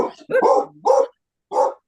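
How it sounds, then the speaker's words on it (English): A big dog barks about four times in quick, uneven succession, loud and close, with short pauses between the barks. "Who's got a big dog?"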